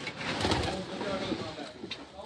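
Shaqa breed pigeons cooing in a steady, close run of soft coos beneath a voice talking throughout.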